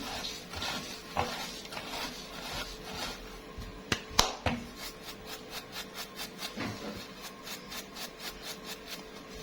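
Dried molokhia leaves rubbed and crumbled between the hands, a dry rasping rustle in quick repeated strokes, close and steady with a few sharper crackles.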